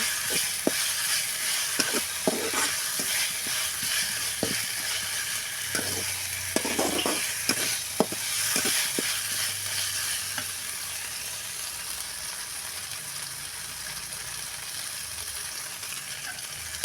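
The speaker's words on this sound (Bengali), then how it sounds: "দিয়ে কিছু 2 মিনিট এরকম করে নেড়ে চেড়ে নেব।" Food frying in a pan is stirred, with irregular scraping knocks and clinks of the utensil in the first half over a continuous close hiss of sizzling oil that carries on alone afterward.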